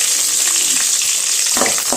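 Fennel and cumin seeds sizzle and crackle in hot oil at close range, with a steady frying hiss and a few sharper spits.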